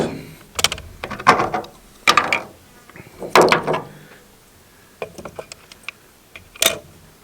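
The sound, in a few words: rifle scope turret adjustment clicks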